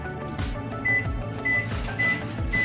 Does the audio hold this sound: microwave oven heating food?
yes